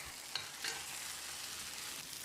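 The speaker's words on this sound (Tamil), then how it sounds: "மறுபடியும் ஒரு 30 செகண்ட் இதை பிரட்டி விட்டுடலாம்" Tomato egg masala being stirred and fried in a pan, a faint steady sizzle with a couple of soft scraping stir sounds, no voices.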